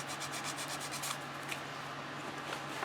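Aluminum pen blank surface scuffed before epoxy gluing, a faint steady abrasive rubbing with quick repeated strokes at first, then a continuous soft scratching hiss.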